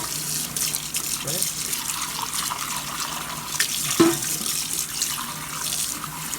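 Moka stovetop coffee pot parts are rinsed under a running kitchen tap, a continuous close hiss of flowing water with a single metallic clink midway and a brief spoken word over it.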